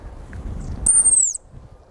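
A hunting whistle imitates a thrush call with one sharp, high, slightly descending whistled note. It cuts in clearly over faint low outdoor rumble and stops abruptly.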